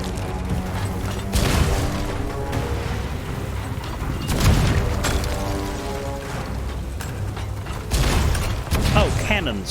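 Booming cannon shots fire repeatedly amid Sea of Thieves game sound effects, several heavy blasts spaced a few seconds apart over a mechanical, clanking background.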